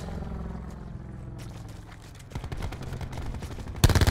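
Rapid gunfire from a weapon in the shooter game Black Ops 4, a steady stream of shots that grows denser and louder toward the end, heard alone without talk.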